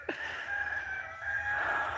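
Rooster kept with birds on a property, crowing with a drawn-out, nasal, sustained call lasting nearly two seconds, fairly close and clear over faint background noise.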